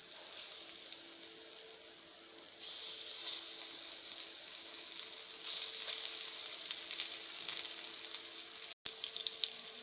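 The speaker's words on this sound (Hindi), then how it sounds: "तमाम नगेट्स फ्राई करने के बाद अब हम पॉप्सिकल्स को फ्राई करेंगे।" Chicken popsicles deep-fry in hot oil with a steady, even sizzle and hiss that swells slightly partway through. The sound is faint and continuous, with a brief click near the end and no talking.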